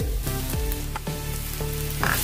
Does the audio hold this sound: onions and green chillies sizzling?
yes